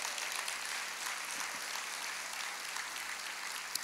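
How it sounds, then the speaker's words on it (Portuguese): A church congregation claps in praise to the Lord, a steady, even wash of applause heard faint and at a distance, without speech over it. "Vamos aplaudir ao Senhor"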